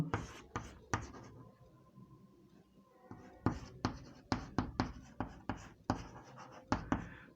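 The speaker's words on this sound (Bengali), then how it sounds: "দেখো, এইখানে কিছু পদার্থের নাম আমি লিখছি" Substance names are written on a board in bursts of sharp chalk-like taps and scratchy strokes, loud and close, with a quieter pause partway through and no talking.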